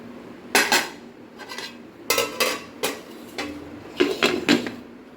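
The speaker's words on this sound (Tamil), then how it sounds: "கிண்டிட்டு சேர்த்து மூடி வைப்போம்." Metal pot and lid clatter while mutton haleem cooks: a spoon scrapes and knocks against the pot in several sharp bursts, then a lid clanks shut, close and fairly loud with no talking.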